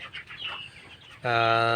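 Broiler chickens about 22 days old on a poultry farm give a few soft clucks, then one bird breaks into a loud, sustained, harmonic call that holds to the end.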